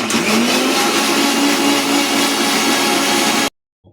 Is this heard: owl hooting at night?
no